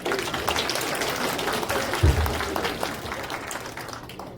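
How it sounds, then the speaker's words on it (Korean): Applause from a seated audience at a veterans' association security lecture forum in Songpa: a steady wash of hand clapping, moderately loud and fairly even, easing slightly toward the end. "박수 한번 쳐주세요"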